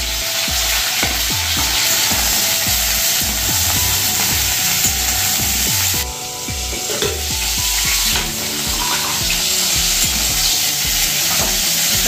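Cauliflower florets frying in oil in a pan, a loud, continuous sizzle broken by many sharp knocks and scrapes of a utensil against the pan, close up and with no talk.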